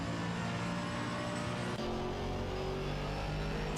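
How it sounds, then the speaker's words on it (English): GT3 race cars at Imola in a sim racing game, a loud, steady engine drone with a shift in tone partway through as the cars pass and change gear, with no voices. "That Mercedes looks really nice. They sound so nice, these cars."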